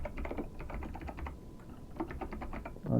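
Fingers type on a computer keyboard in a terminal, two quick runs of crisp, close keystrokes separated by a brief pause.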